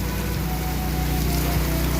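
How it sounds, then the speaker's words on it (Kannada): Rain falling outdoors on a Kannada TV serial set, a dense, continuous hiss that is close and fairly loud throughout, with no voices. "ಮಳೆ ಬರ್ತಾ ಇದೆ"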